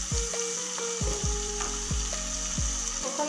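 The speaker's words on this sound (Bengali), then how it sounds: "আমি আলুটা ভেজে নেব।" Potatoes sizzle steadily in hot oil in a wok, a close continuous frying hiss punctuated by several soft knocks of a spatula stirring.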